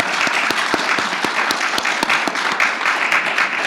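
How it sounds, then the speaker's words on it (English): Loud, close audience applause for panelists at the close of an evening event, dense and steady with sharp individual claps standing out throughout. "Please, one last round of applause for our panelists."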